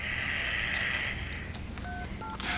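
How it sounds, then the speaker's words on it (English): A cell phone keypad being dialed, with a sequence of short touch-tone beeps after a steady dial tone, clear and close over a noisy background with no talk. "Dial Washington, D.C. information."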